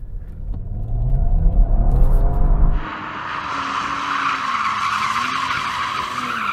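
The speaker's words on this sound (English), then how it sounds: "I could see a lot of smoke though coming from the inside front tyre." A BMW M3 or Audi RS4 launching hard with wheelspin and a smoking inside front tyre: a loud engine rumble gives way to a sustained, harsh tyre squeal and skidding roar that continues to the end.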